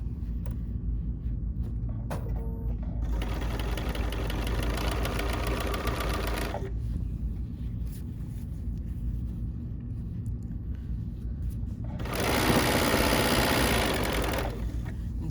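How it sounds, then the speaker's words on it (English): A sewing machine stitches binding onto a finished quilt, with two loud close bursts of rapid mechanical whirring separated by a quieter stretch of lower rumble. "do my binding, sew it on by machine"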